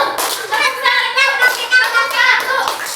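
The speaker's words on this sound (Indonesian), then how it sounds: "Halo anak soleh, tepuk tangan." Young children in a kindergarten class clap their hands together in a quick, uneven rhythm, the claps close and mixed with a teacher's voice and children's chatter.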